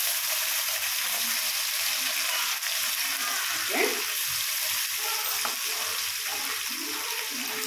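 Homemade ginger garlic paste fries in a pan for egg pulao with beans and carrot, giving a continuous close sizzle with a few stirring knocks and scrapes, and no one speaking.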